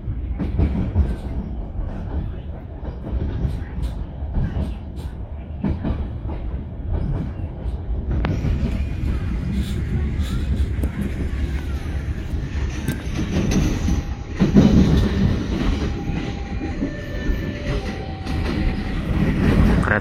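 A long Tegal Bahari business-class train rolls on rails through a bend, a continuous loud rumble of wheels with rising squeal and metallic screeching in the latter half.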